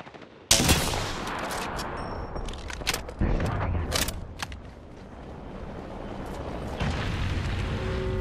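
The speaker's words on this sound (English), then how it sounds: "They're shooting at me!" Gunfire in the battle royale shooter Apex Legends, a sudden loud burst of shots followed by scattered cracks and booming impacts over a noisy background.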